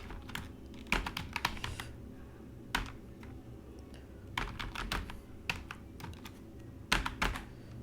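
Code being typed on a computer keyboard, with bursts of fast key clicks separated by short pauses, close and fairly quiet over a faint room hum, no talk.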